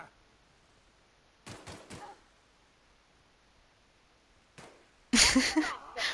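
Gunshots from a fight in the video game The Outer Worlds: a short burst of two or three sharp bangs, then a lone shot, then a louder, denser volley near the end.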